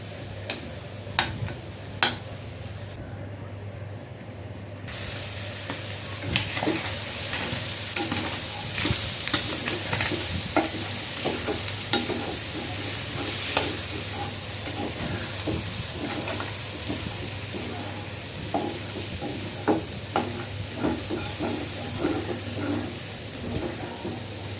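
Beef tripe being stirred and fried in a pan gives a steady sizzle under repeated scraping and clicking of a spoon against the metal, close and continuous, with no talking.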